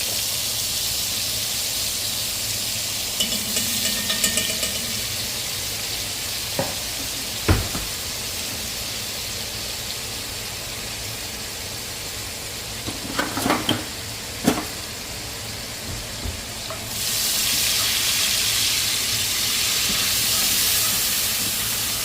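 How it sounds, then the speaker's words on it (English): Butter sizzling as it deglazes a pan of carnitas, a steady hiss that runs throughout and swells louder near the end, broken by a few scrapes and taps of a utensil. "I'm gonna deglaze this with a little butter. Put a little butter in there and see if I can get some of them brown bits"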